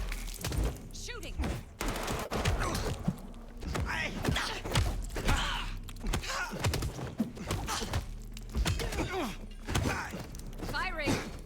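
Rapid gunfire from a vampire action game, sharp repeated shots and thuds in a dense, busy mix with people talking over the action throughout.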